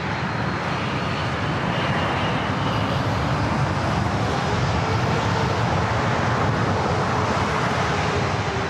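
United Boeing 787 airliner at LAX airport, a continuous broad jet-engine roar that stays steady and fairly loud throughout, with no talking.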